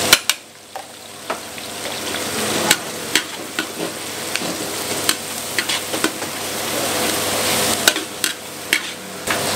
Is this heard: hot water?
no